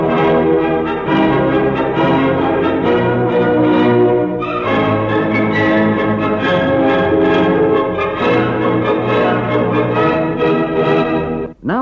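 Music played through a low-pass filter that removes everything above 4,000 cycles, giving a full but muffled orchestral sound with rich lower tones, loud and continuous with a brief dip partway through.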